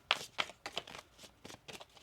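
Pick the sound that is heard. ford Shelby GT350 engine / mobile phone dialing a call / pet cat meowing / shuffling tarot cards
shuffling tarot cards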